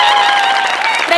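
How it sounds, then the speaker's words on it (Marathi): Loud applause from an audience at a women's self-help group prize ceremony during a comedy arts and sports festival, a dense steady wash of clapping that fills the short moment and stays strong throughout. "प्रचंड टाळ्या."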